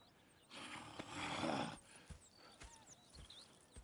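Horses in the video game Red Dead Redemption 2 snort and stamp softly, a brief breathy burst followed by a few scattered hoof knocks, faint and close.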